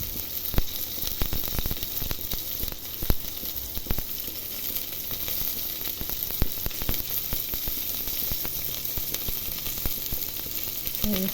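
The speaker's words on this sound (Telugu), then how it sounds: "సో ఆయిల్ వేసి ఇందులో ఒక ఆనియన్స్ కట్ చేసుకుని, పచ్చిమిర్చి, కరివేపాకు," Onions, green chillies and curry leaves fry in oil for ragi ambali, a constant close crackling sizzle dotted with frequent sharp pops and spatters throughout.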